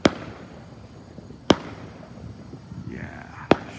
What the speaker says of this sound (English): There, fireworks.